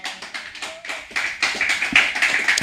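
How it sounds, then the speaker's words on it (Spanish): A church congregation clapping in praise during a worship service, rhythmic unison hand claps building in strength, with a faint sung or spoken tone underneath. "Dele palmas a Cristo"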